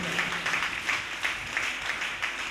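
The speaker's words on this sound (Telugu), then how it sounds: "చప్పట్లు కొట్టు గట్టిగా ఒకసారి" A church congregation claps together in loud, rhythmic bursts of applause that continue steadily throughout.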